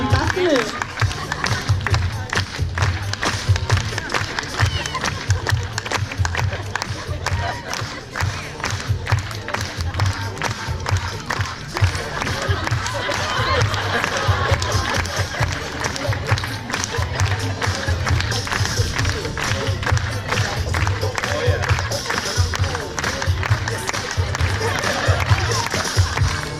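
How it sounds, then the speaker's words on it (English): A crowd at a Long Island Aquarium sea lion show claps along in a steady rhythm to music throughout, mixed with general audience noise and an amplified voice. "When you hear the beat, just clap along to help her keep the rhythm."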